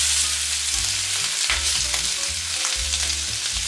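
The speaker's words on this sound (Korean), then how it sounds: "이제 달궈진 팬에 오리고기 200g을 넣고 노릇하게 구워주세요." Duck meat, 200 g, fries in a preheated pan, a continuous loud sizzle and crackle with low clatter from stirring running throughout.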